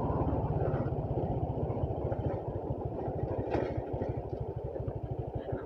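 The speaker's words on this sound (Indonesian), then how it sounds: "Aduh, berisik banget dah motor gua dah." Noisy motorcycle engine on a quiet night ride, a close, steady low rumbling putter with rapid regular pulses and rattle, continuous throughout with no talk.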